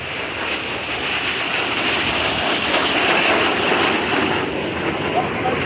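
Red Arrows jets flying their display at the RIAT 2023 airshow make a loud, steady, broadband roar that swells slightly midway and fills the whole clip without a break.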